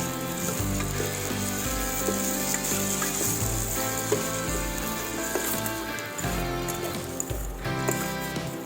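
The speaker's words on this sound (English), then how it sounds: "Once oil is heated, add some jeera and add the diced potatoes." Diced potatoes sizzle steadily in hot oil with cumin seeds, a dense, continuous frying crackle close by with occasional stirring scrapes, no talking.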